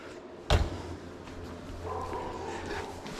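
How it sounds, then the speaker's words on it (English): A single sharp, close dog bark rings out indoors, followed by quieter background sounds. "My dog's barking."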